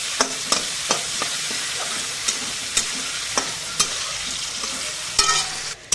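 Chicken sizzling steadily in a hot pan alongside already-fried prawns with whole garam masala and garlic, with a constant loud hiss broken by repeated sharp taps and scrapes of a spatula stirring the pieces.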